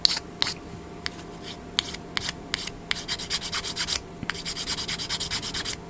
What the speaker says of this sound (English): I can see where I'm going to sand this thing down a bit.